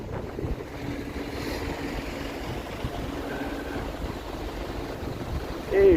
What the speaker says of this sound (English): super windy here now, all of a sudden.